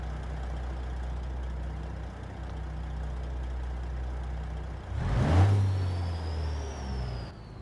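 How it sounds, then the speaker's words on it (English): Detroit diesel engine in a 600-horsepower truck in American Truck Simulator, a steady low drone that swells into a louder rev near the end, followed by a rising whine. "Got a Detroit diesel in it. 600 horsepower."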